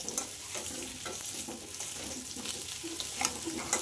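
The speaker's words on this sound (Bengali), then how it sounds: "কচুটাও আজকে ভেজে রান্না করব" Taro (gati kochu) frying in a pan gives a soft, continuous sizzle, broken by occasional scraping as the pieces are stirred, fairly quiet and close.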